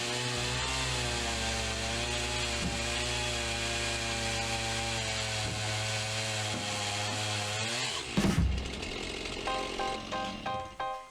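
A chainsaw fitted with a sharp chisel-tooth chain cuts lumber for rafters, first as a loud, steady buzzing drone, then shifting pitch and breaking into rougher bursts as the cut finishes near the end.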